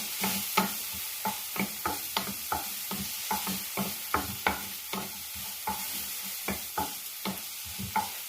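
Tomato, onion and garlic stirred in a frying pan, a spatula scraping in a steady rhythm of sharp, close knocks over a low continuous sizzle, with no voices.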